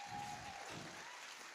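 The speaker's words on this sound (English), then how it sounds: "big round of applause for the advisory board" Applause from an audience honoring an advisory board at a business challenge event, a steady wash of clapping filling the short stretch and tapering slightly toward the end.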